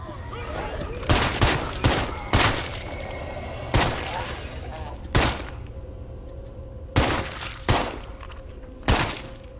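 Unsuppressed gunfire in State of Decay 2 rings out as about eight sharp, loud shots, spaced irregularly a second or so apart, each with a short ringing tail over a steady low background hum.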